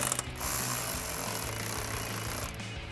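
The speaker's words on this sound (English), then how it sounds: "grab your 8mm socket, tighten down your clamp" An 8mm socket on a ratchet tightens the cold air intake hose clamp on a 2018-2023 Mustang GT, a steady close mechanical clicking and grinding that runs for a couple of seconds with no voices.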